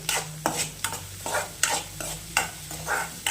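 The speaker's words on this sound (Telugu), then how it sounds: "మష్రూమ్ డ్రై చేసుకుంటున్నాం కాబట్టి స్టార్టర్స్ టైపు బాగా రోస్ట్ అయిపోవాలి" Mushrooms and paneer stir-fried in a pan until well roasted, with a steady sizzle broken by repeated scraping stirs of the spatula at a regular rhythm, close and clear.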